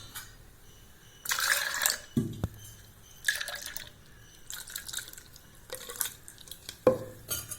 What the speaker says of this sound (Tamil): இப்போ தண்ணிக்கு கரைச்சிக்கலாம்.